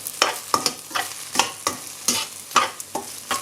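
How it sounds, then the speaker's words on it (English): Rice and egg stir-fried in a pan for Hong Kong-style baked tomato pork chop rice: a steady rhythm of about eight scraping spatula strokes over a soft sizzle, close and fairly quiet, with no talking. "So I add a little bit egg, and then a little bit rice, and then just fry it."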